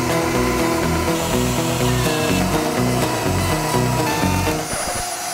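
A Dremel rotary tool cuts along drywall toward a trim board, its high-pitched motor whining loud and steady at close range with a continuous grinding buzz.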